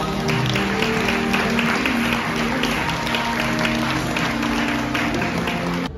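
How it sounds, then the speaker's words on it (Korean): Guests at a Korean wedding applaud the groom's entrance, steady loud clapping from a crowd over bright instrumental music filling the hall for the whole stretch. "박수 부탁드립니다."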